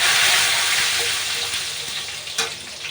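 Chopped garlic and curry leaves sizzle hard in hot oil, a loud, steady broadband hiss right up close that eases off slightly toward the end, with a brief stir or clink near the close and no one talking.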